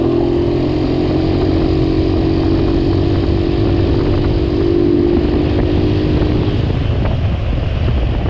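A stunt scooter with a knocking crank, tapping valves and a whining variator revs hard and steadily outdoors on gravel, its loud, continuous engine drone and whine sustained throughout with some wind noise.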